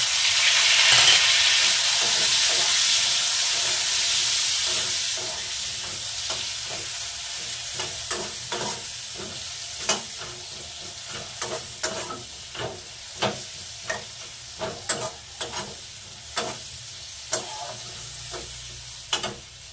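Masala of chopped onion, green chilli and tomato with salt and turmeric sizzling in a pan for a prawn dish with mustard and poppy seed, a steady hiss at first, then frequent sharp scrapes and clacks of a spatula stirring.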